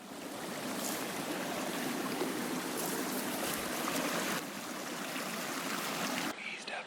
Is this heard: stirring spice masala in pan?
no